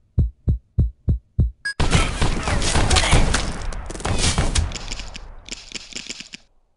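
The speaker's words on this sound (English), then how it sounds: "Oh, I want to shoot him." In the video game Gun Blood, five evenly spaced heavy thumps open, then a loud sustained burst of rapid gunshots and crackling noise follows and fades in stages, with no talking.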